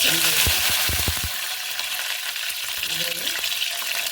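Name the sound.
mustard seeds and cumin spluttering in hot oil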